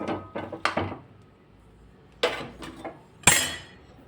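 Boiled peas being mixed into ragda for samosa chaat, heard as a handful of sharp clinks and knocks of a spoon against a metal pot, in irregular clusters close by with quiet gaps, no talk.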